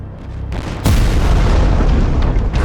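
A cannonball strikes an ammunition wagon in a battle reenactment, setting off a sudden loud, close explosion that booms and then rumbles on in a heavy, sustained roar.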